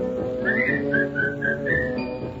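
A performer whistles a bright, lilting tune over orchestral accompaniment in a 1938 NBC radio song, the whistled phrases rising and falling in short runs, clear and prominent above the band.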